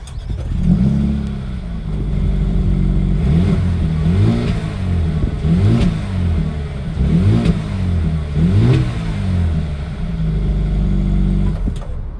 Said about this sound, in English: Now let's jump inside and start the car.